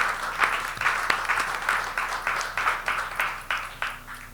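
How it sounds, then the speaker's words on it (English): Applause from a Rotary club meeting audience at a winery, honoring members' birthdays; a moderate clatter of clapping with rhythmic surges over a few seconds, fairly close and steady, fading slightly toward the end. "Let's give them all a round of applause for their birthdays."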